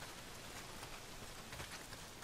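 Steady heavy rain pours down in the Days Gone game world, a dense, even hiss of drops that stays continuous and fairly quiet with no voices over it.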